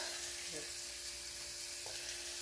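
Chicken feet frying in hot oil in a home kitchen, giving a steady, even sizzle that holds throughout, with a couple of faint clinks or stirring sounds.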